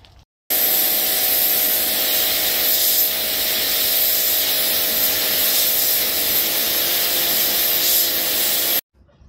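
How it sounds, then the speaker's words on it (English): An electric power washer sprays hard against concrete as a steady, loud, broadband hiss with a constant motor whine beneath it, running continuously for about eight seconds before cutting off abruptly. "this power washer electric is not removing the paint like I thought it would"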